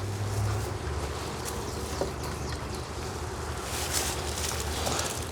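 Honey bees hum inside an opened hive frame box, a dense continuous buzz with a low rumble, fairly quiet and unbroken throughout.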